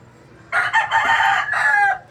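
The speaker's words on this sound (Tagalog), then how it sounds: "tilaok ng tilaok" A rooster crows once, loud and close, a drawn-out call with a rising start and a trailing end, against a quiet background.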